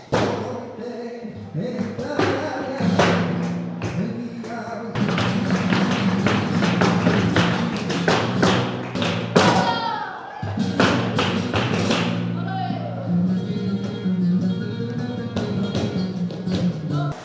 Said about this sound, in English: there is so much passion in flamenco